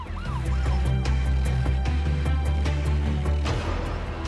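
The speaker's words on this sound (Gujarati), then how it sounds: "હોસ્પિટલ બહાર એમ્બ્યુલન્સની લાઈન" An ambulance siren wails outside a hospital where ambulances wait in line, rising and falling continuously and fairly close, with traffic noise underneath.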